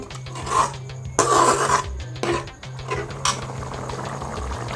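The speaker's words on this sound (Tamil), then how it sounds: "உருளைக்கிழங்கு குருமா சூப்பராகவே கொதிக்குது" A pan of potato curry bubbling and spluttering in irregular bursts over a low, steady hum.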